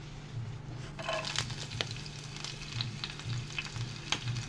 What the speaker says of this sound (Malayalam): എണ്ണ ചൂടായിട്ടുണ്ട് അതിലേക്ക് നമുക്ക് ആദ്യം പച്ചമുളക് ഇടാം